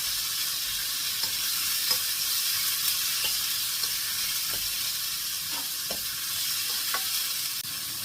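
Chopped onion frying in a hot pan for a scallop dish, a steady, even sizzle that holds for several seconds, with faint scattered ticks and pops and no talking.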